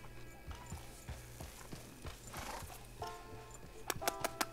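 A horse in the Red Dead Redemption video game plods along with steady clip-clop hoofbeats under faint background sounds, then a few sharp, louder strikes and whinny-like bursts near the end.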